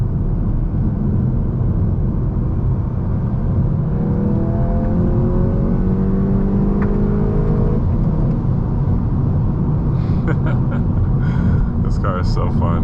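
A VW MK8 GTI engine rises in a loud, steady drone as the revs climb after a downshift, heard from inside the car, with the road rumble ever present and a few faint crackles near the end.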